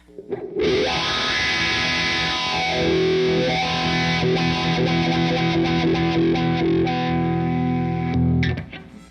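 A single distorted electric guitar chord through a wah pedal, played on the burn channel of a Supersonic 22 amp, rings out loud and sustained for about eight seconds, then cuts off.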